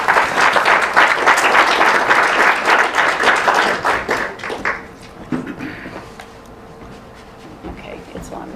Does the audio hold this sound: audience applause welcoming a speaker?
yes